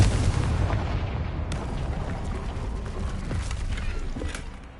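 Confringo spell explosion in the game Hogwarts Legacy, a loud rumbling blast that begins at full strength and carries on as a dense roaring decay, with faint crackles through the tail and no voices.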